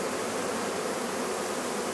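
A honeybee swarm in July buzzes as a dense, steady drone, loud and close, without any pause or talk over it.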